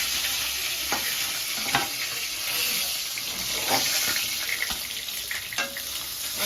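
Fish frying in hot oil in a home kitchen, a steady broadband sizzle with scattered pops and scrapes of stirring, close and fairly loud with no talk.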